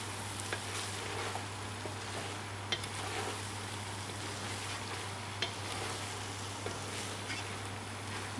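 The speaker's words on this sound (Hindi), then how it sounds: "इसे भी अच्छी तरह मिक्स कर लें।" Potato and egg mixture frying and being stirred in a pan with green coriander, green chillies and garam masala, a steady close sizzle with occasional scraping clicks of the spoon, no talking.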